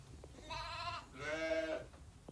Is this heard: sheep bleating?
yes